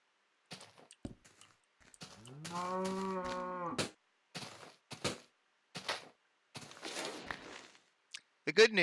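A Minecraft cow lets out a long, clear moo in the game, surrounded by short scattered clicks and footstep-like taps.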